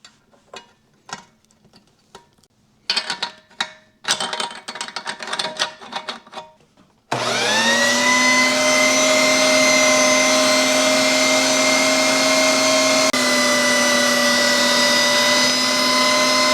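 An electric meat grinder runs beef trimmings through its smallest die, starting with clicks and clatter of assembly before the motor kicks on into a loud, steady whirring hum that continues to the end.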